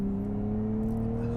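A Nissan Z sports car with a 400-horsepower turbocharged engine gives a steady, close engine drone with an even tone that shows no clear rise in pitch, and no voices are heard.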